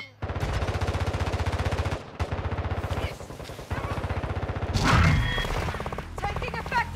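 Call of Duty gunfire comes in long rapid automatic bursts broken by short pauses, with a heavier blast near the middle and a voice speaking briefly over the shooting.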